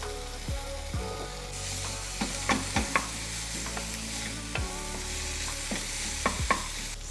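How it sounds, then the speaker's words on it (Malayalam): Crumbled paneer is added to a hot frying pan and stirred, with a steady sizzle and repeated scraping and knocking of the spoon against the pan, close up, with no talking. "നമ്മൾ നേരത്തെ റെഡിയാക്കിയ പനീർ ജസ്റ്റ് ഒന്ന് ക്രംബിൾ ചെയ്ത് ആഡ് ചെയ്യാം"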